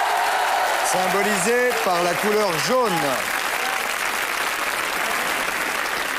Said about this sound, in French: applaudissements les gars